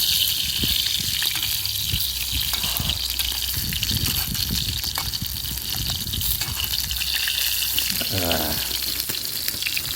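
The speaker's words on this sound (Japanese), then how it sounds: "よく炒めましょう。" Meat stir-frying in a pan over a campfire outdoors, a continuous gushing sizzle with irregular scraping and clattering underneath, steady and fairly close, with faint background voices.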